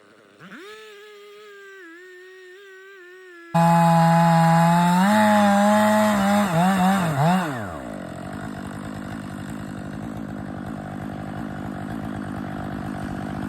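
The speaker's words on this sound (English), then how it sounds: "the bush beside that tree I'm cutting down" A chainsaw felling a tree on a windy day in a horse-logging woodlot: the engine idles steadily, then roars loudly into a cut for several seconds before dropping back to a lower running drone.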